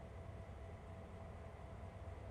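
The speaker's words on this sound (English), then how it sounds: "As we see a coal train arriving." A coal train rolls in at Horseshoe Curve in the Train Sim World 2 game, a low steady rumble and drone with a faint tonal hum, continuous and fairly quiet with no voices.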